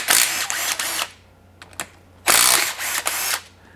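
Impact gun rattling off the connecting rod cap bolts on a Honda J30A4 engine, two loud close bursts of about a second each separated by a short pause and a couple of brief taps.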